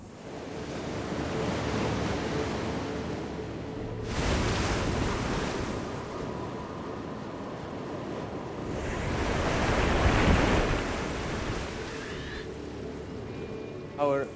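Waves churned up by a paddle-type wave machine in an ocean-energy test tank: a continuous wash of surging water with two louder swells building and breaking, no talk.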